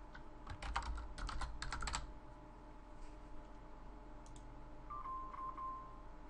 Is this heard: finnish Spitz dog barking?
no